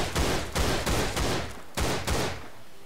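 AK rifle fire in the shooter game Line of Sight: several loud, sharp bursts of automatic shots in quick succession, separated by brief pauses, with no voices.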